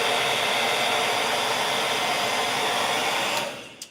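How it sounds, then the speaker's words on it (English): Hair dryer blowing on paint on an 8x10 canvas, a loud continuous broadband whoosh that runs steadily for over three seconds, then switches off with a short click. "Sorry for the loudness of the dryer."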